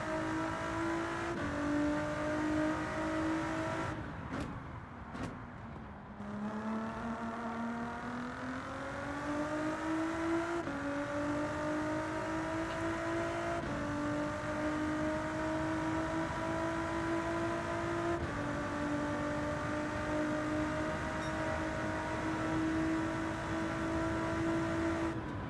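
A GTD-class race car in Gran Turismo 7 laps Bathurst during qualifying. Its engine holds a loud, sustained whine, dips briefly with a couple of gear changes, then climbs steadily again.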